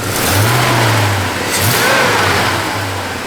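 A 1968 Chevrolet C10 pickup's engine runs loud and close, revving up in a rising surge, dipping, then holding a steady throaty drone with a second push, the exhaust fitted with headers.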